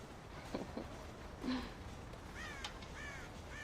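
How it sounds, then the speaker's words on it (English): Crows cawing in Red Dead Redemption: several rough caws scattered across a steady outdoor ambience, moderately distant and fairly faint, with no talking. "God damn crows!"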